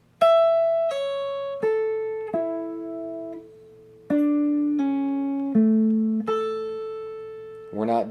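A clean electric guitar plays a phrase of about nine sustained single notes from a guitar solo, each plucked and left ringing in an unhurried descending and rising line, with a short voice right at the end.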